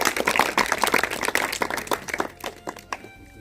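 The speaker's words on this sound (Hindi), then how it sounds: "जोरदार तालियां रश्मि मैडम के लिए" Audience applause at a school birthday function for a teacher at GSSS Ishwer Nagar, a burst of dense clapping that thins out over a few seconds and fades to near silence.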